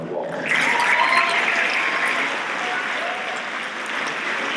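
Audience applause at a high school spring awards assembly, a sustained wash of clapping that swells quickly and holds steady for several seconds in a large hall.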